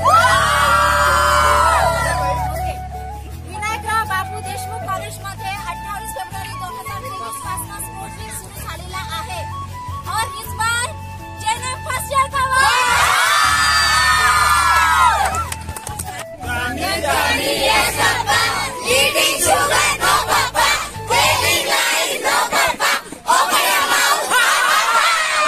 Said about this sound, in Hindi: एक बार हल्ला मचा दो